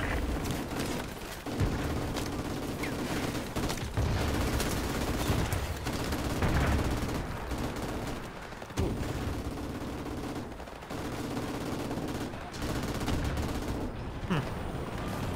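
Repeated gunfire in the first-person shooter Call of Duty Remastered, with sustained automatic bursts and sharp shots running nearly the whole time under a dense, loud battle mix.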